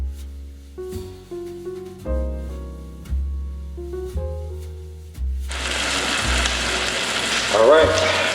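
Onions and vegetables fry in a pan for pad thai, a steady loud sizzle that begins midway and carries to the end, after a stretch of tonal background music.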